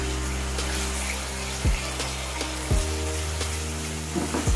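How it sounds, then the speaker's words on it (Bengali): Spice paste for Bengali doi katla fish curry sizzles steadily in a pan, a continuous close frying hiss with stirring scrapes and a few sharp spatula knocks against the metal. "মশলা কন্টিনিউ নাড়াচাড়া করে আমি খুব ভালোভাবে কষে নিয়েছি।"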